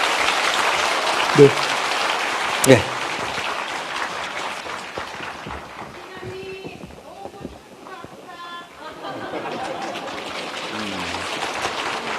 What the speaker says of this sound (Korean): 죄송합니다, 여러분. 네, 큰 박수로 보내드리시죠.